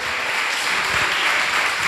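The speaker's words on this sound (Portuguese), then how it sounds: "pelo menos aplauda esse cenário aí" Church congregation applauding a staged scene during a sermon, a dense, steady burst of clapping from many people filling the whole moment without talk.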